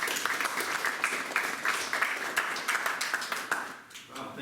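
An audience at a connected-car tech meetup applauds a speaker, many hands clapping densely and steadily for several seconds before the clapping thins out near the end.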